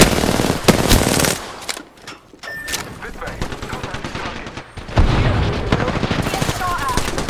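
Automatic and rapid gunfire bursts from an Apex Legends match, loud and dense, with game effects and brief pauses between volleys.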